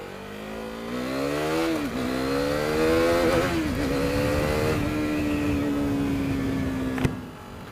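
A KTM Duke 390 single-cylinder engine revs while being ridden, climbing through the gears with brief dips at each shift, then holding a steady drone before backing off; loud and close, no talking.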